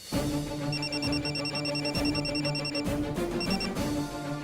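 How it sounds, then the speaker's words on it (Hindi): A phone rings with a repeated electronic trill, pulsing in quick bursts close by, pausing briefly and then ringing again. "कम ऑन कली, पिक अप द फोन।"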